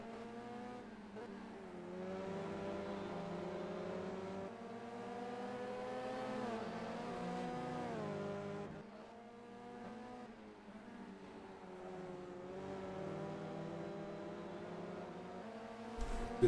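Touring race cars in an ETCC round at Brands Hatch roar through the Druids corner, their engine notes repeatedly climbing and dropping through gear changes, loud and close, ending in a sharp burst.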